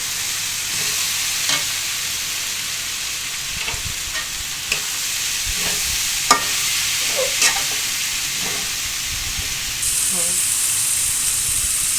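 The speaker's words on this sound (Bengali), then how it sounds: "এখন এগুলোর সাথে আলু দিয়ে একটু কষিয়ে নিব।" Potatoes being stir-fried with onion and chili for a simple khichuri, a steady sizzle with scattered scraping stirs across the whole stretch, close and fairly even, with no talking.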